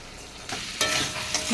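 Taro curry masala frying in a pan while being stirred, a steady close sizzle with scraping strokes that grow louder after the first half second, no voices.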